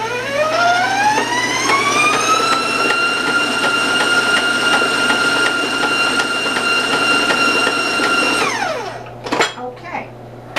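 A stand mixer with a paddle beats cookie dough at high speed: a loud, close motor whine rises in pitch, holds steady, then winds down, followed by a few clunks.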